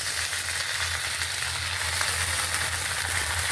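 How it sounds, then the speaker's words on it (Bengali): Onions and red amaranth leaves sizzle in hot oil, a dense, even hiss that stays loud and close throughout with a faint low hum beneath and no voices. "দিচ্ছি আমি তেলের মধ্যে পেঁয়াজ, দিয়ে দিলাম লাল শাক,"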